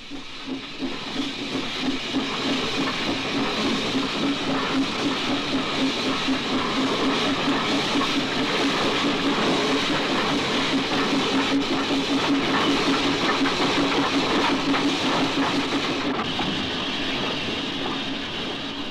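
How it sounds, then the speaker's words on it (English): Steam train on the Festiniog Railway setting off along the Cob, with loud continuous steam hiss and rhythmic chuffing that builds and holds steady, heard close with no talking. "So the train sets off along the cob."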